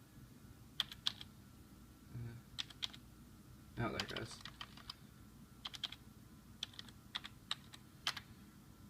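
Keys clack on a computer keyboard connected to a prototype Power Mac G5 Quad in quick irregular bursts, close and clear, with a brief spoken remark in the middle.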